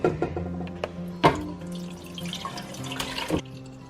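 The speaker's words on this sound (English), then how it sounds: "we're going to run it through our strainer here and then rinse it with really cold water" Cold tap water splashes steadily into a strainer as fresh homemade butter is rinsed, with a few sharper clatters and drips over the running flow; no voices.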